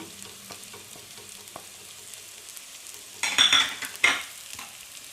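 Onion fried with turmeric, coriander and chili powder for a crab roast: a faint, low sizzle carries on alone, then two short, louder bursts of stirring and scraping in the pan near the end.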